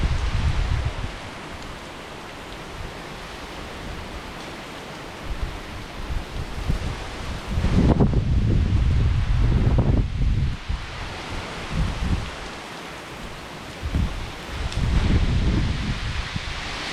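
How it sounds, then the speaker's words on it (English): Strong hurricane wind during Hurricane Laura in Louisiana rushes and roars in heavy gusts, swelling and easing repeatedly, with rustling and buffeting noise and no voices. "it's the wind that is getting stronger"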